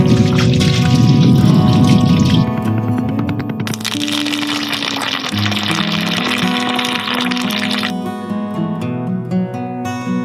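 Water splashing and pouring loudly while the bottom of a container is rinsed out at an off-road camp, a close, continuous gush with shifting tone as the water hits the surfaces.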